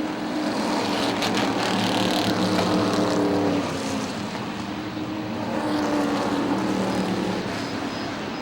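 Race cars roar around the oval at Motordrome Speedway, a loud, continuous engine drone from several cars that rises and falls as they circle the track.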